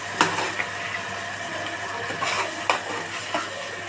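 Ginger garlic paste stirred and fried in a pan, a steady sizzle broken by a few sharp scrapes and clinks of the spoon against the metal, close and fairly loud, with no talking.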